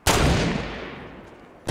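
A single loud, booming sniper rifle shot in Fortnite Battle Royale cracks close by, then rolls into a long echoing tail that fades, with a faint click near the end.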